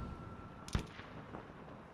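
A single sharp gunshot cracks out mid-clip in Battlefield V, followed by a fainter distant report over a low background rumble of battle ambience.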